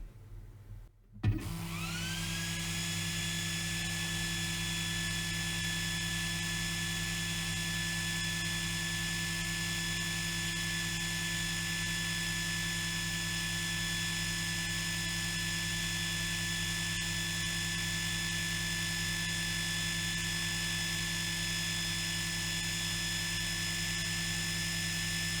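An AlgoLaser Alpha MK2 20W laser engraver starts a single cutting pass at 100 mm per minute, spinning up into a steady, continuous whining hum that runs unchanged to the end.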